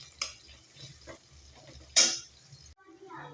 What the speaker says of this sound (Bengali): এদিকে আমি পেস্টটা ভাজি।